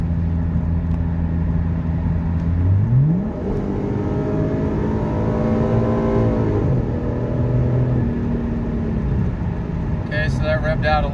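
A 2014 Ford Mustang with the 3.7 V6 engine accelerates hard at full throttle, its note climbing and then dropping sharply at each gear change, with a noticeable jerk on the upshift. The engine stays loud and close throughout.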